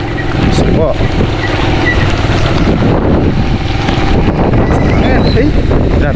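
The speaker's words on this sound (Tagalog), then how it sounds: "Nakakatakot yung hangin na yan." Powerful super typhoon wind roars and batters the microphone throughout, a dense, churning rush with faint voices buried beneath it.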